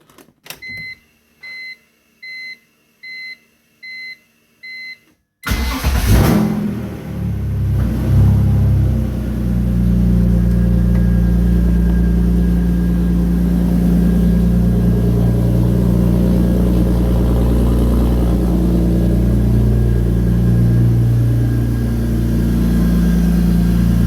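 A BMW E46 drift car with a recently repaired misfire: several electronic chimes beep in a regular rhythm, then the engine cranks and fires, settling into a loud, steady idle with low rumbling throughout.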